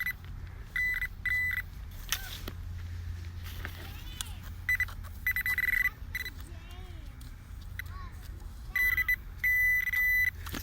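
Metal detector beeps over a buried penny at a playground tot lot, several short bright tones repeating in clusters against low outdoor rumble, with a voice speaking in between.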